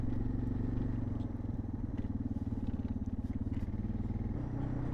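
A motorcycle rides over a flat dirt road scattered with small stones, its engine a steady, close, rumbling drone with a rapid pulsing throb that stays loud and continuous throughout.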